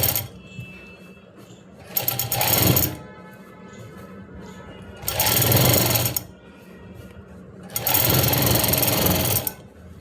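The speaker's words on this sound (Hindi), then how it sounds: "बिल्कुल ऐसे हमने सिलाई लगानी है" An electric sewing machine stitches a fabric belt with gathered pleats in three loud, rapid buzzing bursts of about a second or two each, separated by quieter pauses.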